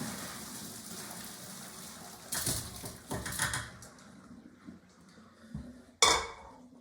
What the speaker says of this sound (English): pour your potatoes into the strainer.